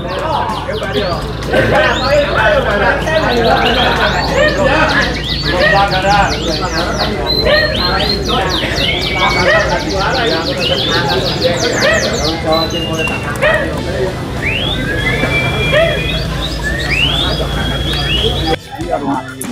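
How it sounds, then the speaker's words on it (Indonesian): Many national-champion songbirds in the top class sing at once at a bird song contest, a dense, loud, overlapping mass of rapid chirps, trills and whistles over a constant crowd murmur. "Ini 3 burung jawara nasional"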